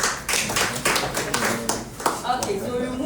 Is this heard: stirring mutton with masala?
no